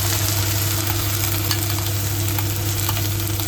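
Onion paste with spices goes into a hot pan and fries with a steady, close, even sizzle and crackle that lasts throughout with no one talking.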